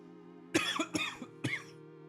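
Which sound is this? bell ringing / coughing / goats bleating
coughing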